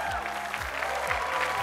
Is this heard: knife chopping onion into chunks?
no